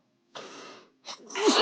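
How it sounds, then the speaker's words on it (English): A single person sneezes close to the microphone in a quiet room, a drawn-in breath followed by a sharp burst. "Sneezing."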